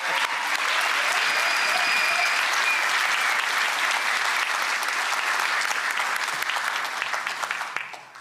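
Sustained applause from an audience at a university commencement ceremony, a dense, loud wash of clapping lasting several seconds before tapering off at the end.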